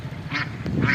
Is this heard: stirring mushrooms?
no